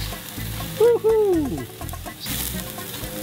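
Ribeye steaks sizzle and fry on a home grill, a steady crackling hiss under a loud excited shout and some nearby chatter.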